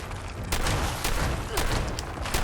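Shotgun blasts in the video game Fallout 76, several loud broadband bursts at irregular intervals over a dense, noisy game mix.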